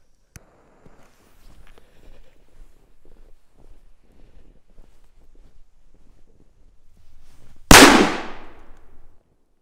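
A single sharp, loud bang from a 25-gram firecracker going off in snow, bursting suddenly after several seconds of quiet shuffling and wind, then decaying quickly into a brief rumble.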